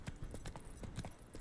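Horse hooves clip-clop at a gallop in the video game The Witcher 3, a quick, steady run of soft, muffled footfalls heard at moderate distance.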